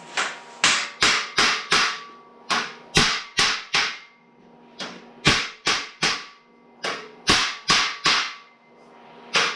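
Hammer tapping on metal subrails of a Model A header bow, sharp ringing strikes in quick clusters of three to five, repeated several times, close and loud with no talk.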